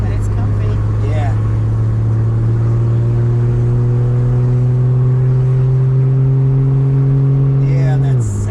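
A 2JZ-GTE engine swapped into a 1985 Toyota Supra MK2, droning loud and steady from inside the car with its pitch slowly rising under a held throttle, then dropping off sharply at the end.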